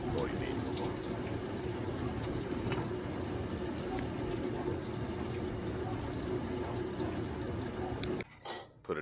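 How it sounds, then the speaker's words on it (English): Canning jars are washed in a kitchen sink with warm soapy water, a steady rush of running tap water splashing continuously at close range, cutting off abruptly near the end with a faint clink. "Warm soap and water is all you need."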